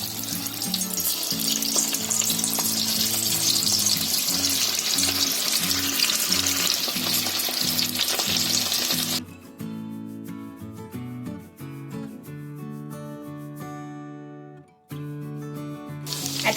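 Small torn pieces of leftover-rice dough sizzle loudly in hot oil for several seconds, then the frying drops to a quieter crackle, with music playing underneath.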